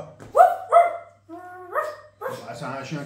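A person imitates a dog with a few short, hoarse barks and yips in quick succession, close to the listener, followed by a longer whiny bark and some speech at the end.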